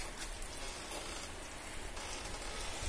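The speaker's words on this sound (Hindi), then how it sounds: "बारिश हो रही है" Heavy rain pours down in a steady, dense hiss that stays even and fairly loud throughout, with no voices over it.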